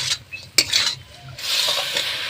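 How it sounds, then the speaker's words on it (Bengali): Khesari greens with potato and eggplant being sautéed and stirred in a pan, with soft scraping strokes of a spatula, a sharp clink near the start and a low steady sizzle rising toward the end. "এবারে আমি কষিয়ে নেব 5 মিনিট মতো।"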